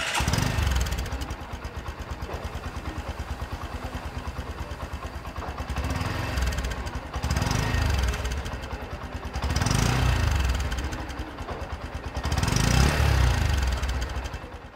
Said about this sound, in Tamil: இதோட எக்ஸாஸ்ட் சவுண்ட் எப்படி இருக்குன்னு